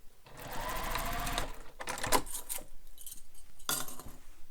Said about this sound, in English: stitch length for basting, because what basting is doing is it's holding the layers temporarily for you